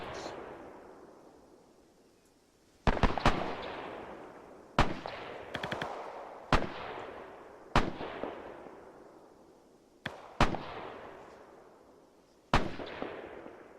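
Gunfire in the Arma 3 military simulation, a WWII British milsim training session, cracks out in sharp, echoing shots and short bursts spaced a second or two apart, each decaying in a reverberant tail.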